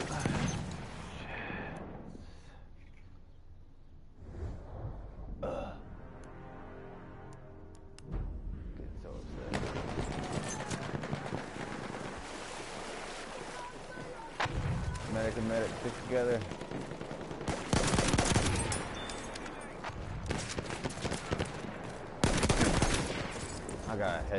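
Gunfire in a shooter game, with bursts of rapid automatic shots and single loud cracks scattered throughout, close and loud, mixed with other game effects while someone talks over parts of it.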